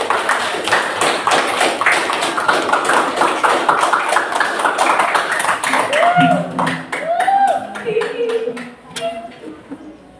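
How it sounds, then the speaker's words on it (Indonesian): A classroom audience claps after a group presentation, a dense run of sharp claps that thins out as a voice begins speaking over the last few seconds. "Terima kasih tepuk tangan"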